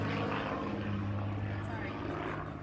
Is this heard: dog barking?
no